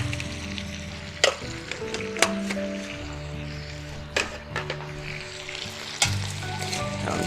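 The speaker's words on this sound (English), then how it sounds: "Get the cabbage all coated in the fat." Cabbage frying in bacon fat, with salt and pepper added, giving a close, steady sizzle with intermittent scrapes and clacks of stirring and a low hum underneath, no speech.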